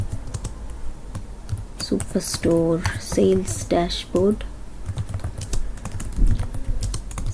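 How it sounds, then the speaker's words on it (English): Computer keyboard typing while building an interactive sales dashboard in Microsoft Excel, a steady run of close, crisp key clicks partly overlapping a person talking. "So maybe I will start typing maybe global"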